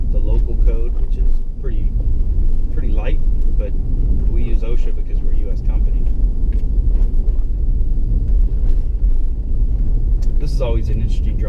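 A vehicle drives across a rough, unpaved desert track at Umm Ghuwailina, its steady low engine rumble and road noise continuous throughout, with someone talking over it.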